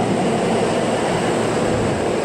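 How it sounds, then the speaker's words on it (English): A subway train arrives at the station with a loud, steady roar of wheels and rumbling carriages that fills the whole stretch without pause. "Oh, here comes my train."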